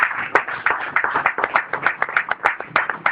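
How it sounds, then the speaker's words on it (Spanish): Congregation in a church service claps rhythmically in steady, evenly spaced beats, a close and fairly loud pattern of hand claps with no talking over it. "Den palmas al Señor."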